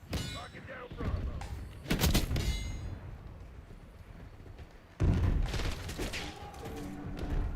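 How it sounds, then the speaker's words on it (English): Enemy sniper fire in Call of Duty Black Ops 6 cracks out in loud, sharp bursts amid steady battlefield noise, with a heavier blast near the end and game voice callouts spoken over the action. "Enemy sniper shooting."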